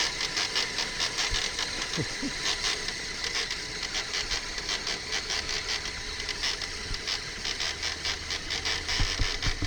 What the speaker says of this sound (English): Got to be that Traxxas slipper.